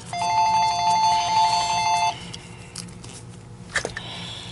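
A telephone rings in an electronic ringtone, steady repeating tones for about two seconds before stopping, heard indoors during a vacuum repair session, followed by quieter workshop handling sounds.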